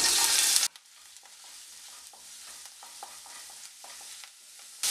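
Ginger and garlic sauté in a little hot oil, a quiet steady crackle with faint stirring scrapes, opening with a short loud burst of hiss as they hit the pan.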